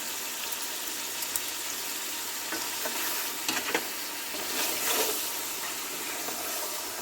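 Chopped beef liver, kidney and tripe hiss and sizzle steadily in hot oil, with a few soft stirring scrapes and brief louder crackles over a continuous frying sizzle.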